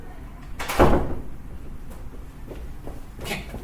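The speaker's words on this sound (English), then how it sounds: "And I'm just going to close the door real quick." A door swings shut with a single firm thud and brief rattle near the start of a quiet room, followed by faint shuffling and a lighter knock later.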